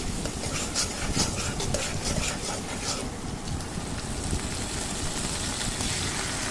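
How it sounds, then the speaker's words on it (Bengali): Onions frying in hot oil in a wok, giving a steady, dense crackling sizzle that stays loud and even throughout with no voices. "কড়াইয়ে তেল পেঁয়াজ দিয়ে নিলাম পেঁয়াজ ভাজা ভাজা করে দিচ্ছি"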